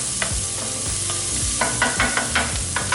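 Onions sautéing in a pan with butter, a steady sizzle broken by repeated scraping stir strokes, close and moderately loud with no talking.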